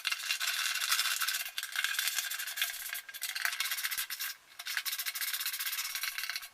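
Nuts on a go-kart shifter cable being tightened produce a steady, close scraping rasp, with brief dips, that runs for about six seconds with no one talking.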